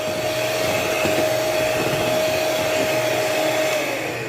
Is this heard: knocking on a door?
no